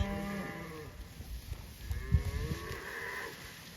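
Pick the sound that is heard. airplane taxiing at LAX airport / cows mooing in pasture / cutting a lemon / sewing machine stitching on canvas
cows mooing in pasture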